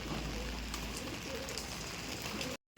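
Pigeons outdoors during a sudden rain shower, with faint bird calls and fluttering over a steady hiss of rainfall, ending in a brief silent dropout.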